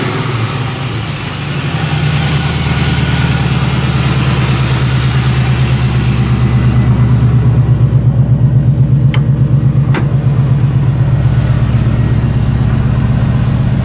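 An LS V8 swapped into a Nissan 350Z runs steadily at idle, a loud, deep, continuous engine drone close by with a slight rise in pitch partway through and no talking.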